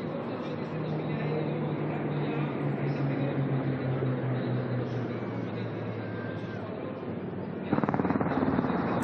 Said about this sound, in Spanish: ¿Esos helicópteros cuáles son?